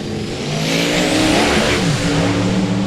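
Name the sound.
drag race cars launching, Pontiac Acadian, tire spin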